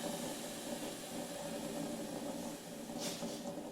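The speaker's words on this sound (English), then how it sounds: "So the steamer just has a hose that goes to a big tank unit, blows hot steam through here." A wallpaper steamer's hose and tank unit blows hot steam in a steady, continuous hiss with a low rumble underneath, the hiss flaring up briefly near the end, during a kitchen demolition.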